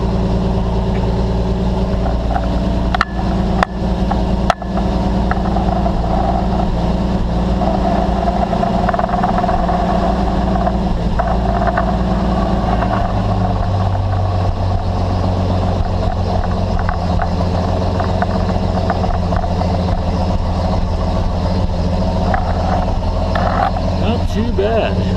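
An S160 engine, with a newly installed carburetor and the choke partly out, idles on its own in a steady, close, loud mechanical rumble. A few sharp clicks are heard early on, and a person talks over the sound.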